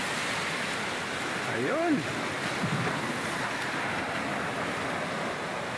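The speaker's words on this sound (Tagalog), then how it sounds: "Medyo malakas lang ang alon ngayon eh." Strong sea waves wash and roar steadily against a rocky beach, close and loud, with wind noise on the microphone and a brief spoken word partway through.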